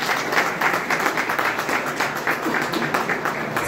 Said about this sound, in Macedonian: Сакам да ве поздравам со еден громогласен аплауз сите